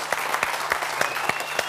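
An audience claps together on a Georgian comedy contest show, a steady, dense applause with a few sharper individual claps standing out at a regular pulse throughout.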